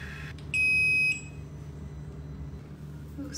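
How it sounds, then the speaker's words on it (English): Wireless hair curler's timer gives one clear electronic beep of about half a second, soft and close over a quiet background hum. "Okay, it will beep."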